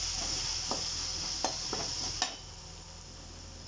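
Ground spice powder added to a frying pan of curry leaf rice and stirred, with a broad, steady sizzle and a few spatula scrapes, close and moderately loud, with no talking.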